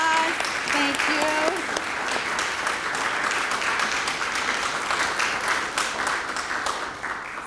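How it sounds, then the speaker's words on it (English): Steady applause from an audience at an induction ceremony, continuous and fairly close, with a brief voice at the start before the clapping takes over and tapers slightly at the end. "the faculty family, round of applause"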